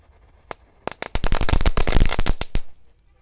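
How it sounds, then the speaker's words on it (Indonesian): A rapid burst of sharp crackling pops from a fizzing firecracker builds into a dense, loud sputter, then thins out and stops. "di sini ada mercon disco happy flower yang pretek ya. Kita nyalakan."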